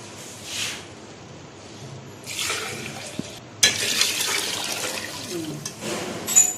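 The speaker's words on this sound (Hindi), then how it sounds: "अब इसके अंदर पानी हो जाएगा।" Water pouring into a cooking pot of lassi for kadhi pakora, an unsteady splashing flow close by that comes in several bursts and grows louder toward the end.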